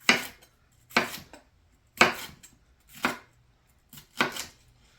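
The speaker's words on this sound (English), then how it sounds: "Get that de-seeded, and like the others, just cut it into thin strips." Knife chopping a de-seeded pepper into thin strips on a cutting board, five or six crisp separate bursts of quick cuts at a steady rhythm, close and clear with no talk.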